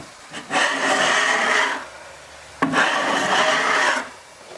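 A scraper drags wallpaper glue off a wall in two long rasping strokes, each about a second and a half, close and fairly loud, separated by a brief pause, with no voices.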